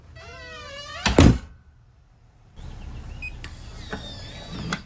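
A residential door lock, likely electronic, whirs and clunks as it locks just after the door is opened, with a loud thunk near the start followed by quieter clicks and handling noise.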